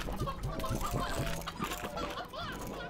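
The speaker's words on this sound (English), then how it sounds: "Right, let's put the chickens back in here" Chickens cluck repeatedly in Slime Rancher, a steady run of short clucks and squawks filling the scene, with game ambience beneath.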